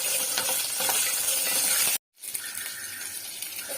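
Drumstick pieces, sweet potato chunks and green chillies sizzle steadily in hot oil in a pan, with stirring sounds throughout and a brief silent gap midway before the frying resumes.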